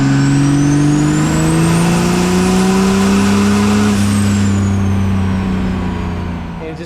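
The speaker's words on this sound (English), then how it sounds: "I'm flooring it, and I'm just expecting the truck to just roar to life" A diesel truck floored at full throttle on a fuel-only run in the mountains, a loud steady engine roar with rising whine and a gradual swell of pitch, tapering off briefly at the end, no voices.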